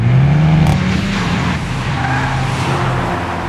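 A Škoda Octavia RS 230 with a 2-liter TSI engine revs loudly as its tires squeal in a long, sustained screech, the engine roar continuous and close throughout.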